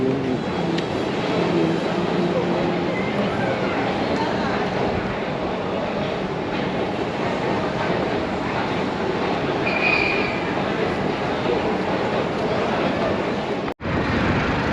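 Steady rumble of Long Island Rail Road trains rolling in the Hudson Rail Yards, a continuous low mechanical drone with faint wheel noise in the distance.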